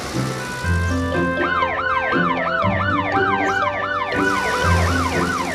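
A cartoon police car siren wails in repeating rising and falling sweeps, loud and near, over a low rhythmic backing tone with no voices.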